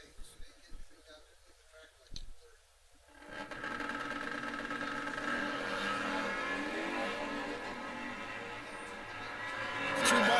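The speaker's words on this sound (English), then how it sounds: "Two bikes really getting after it out there." Two drag racing motorcycles at a nitro nationals event accelerate down the strip, a few faint pops and quiet moments before a sustained, loud engine roar takes over and builds toward the end.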